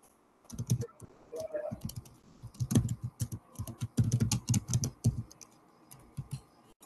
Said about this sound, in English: I can hear typing, but not talking.